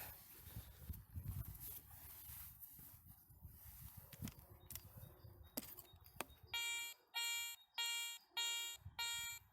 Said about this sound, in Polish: Ładny, powtarzalny sygnał pojedynczy, mocny